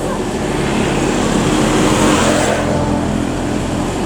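A truck pulling away from a highway rest area, a steady loud broadband engine and road roar throughout, with a brief swell near the middle.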